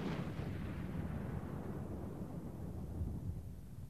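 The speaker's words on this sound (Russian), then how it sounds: "Миллиарды лет назад этот шар взорвался." A deep, rumbling blast opens with a sharp burst and then rolls on as a long, low roar that slowly fades.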